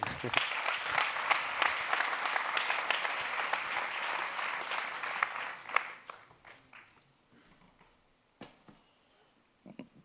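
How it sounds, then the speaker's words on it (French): An audience at an awards ceremony applauds a prize winner in a planning category, with loud, dense clapping for about six seconds that then thins to scattered claps and quiet. "Qu'on peut applaudir."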